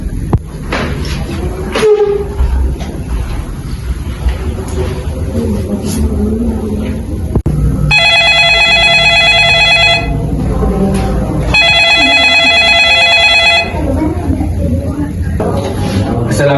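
An old-style telephone bell rings in two long electronic trills, loud and close, following someone speaking in Indonesian against a steady background hum in a historical drama scene.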